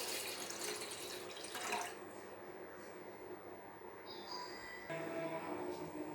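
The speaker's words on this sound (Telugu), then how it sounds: "ఇలాంటి ఒక బౌల్ పెట్టేసుకొని ఒక గ్లాస్ వాటర్ యాడ్ చేసుకోండి." A glass of water pours steadily into a bowl set on a lit stove while soya chunks are being prepared, a continuous close splashing stream lasting several seconds with no talking.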